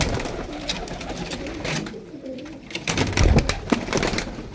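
Pigeons coo close by in repeated low, soft calls, mixed with rustling and some background activity and a stronger burst of cooing toward the end.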